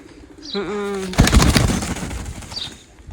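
A pigeon gives a short, low coo, followed by a burst of fluttering and rustling close by.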